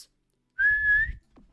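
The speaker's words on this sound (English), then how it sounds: "It's when you put your lips together and you blow. Like this." A person whistles one short, clear, steady note through pursed lips, then a faint rustle follows in otherwise quiet surroundings.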